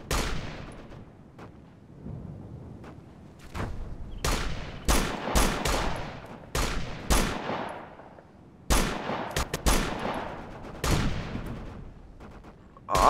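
Rifle gunfire in the Operation Flashpoint: Dragon Rising military shooter, a dozen or so sharp shots in irregular bursts with echoing tails, including a louder blast near the end, no talking.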